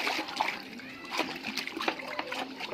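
Homemade dishwashing liquid being stirred in a five-litre batch of water, giving soft, irregular splashes and sloshing close by with intermittent liquid trickles.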